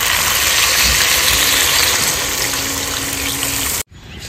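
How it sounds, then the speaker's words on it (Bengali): Water poured into a pot of cooking chicken, a loud, steady rushing splash lasting nearly four seconds before it cuts off abruptly to quiet. "এবার দিয়ে দেবো জল"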